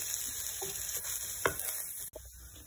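Tuna stirred into a mixture in a frying pan for a Senegalese pastels filling, with a steady low sizzle throughout and a few soft, scattered clicks and scrapes of the utensil in the pan.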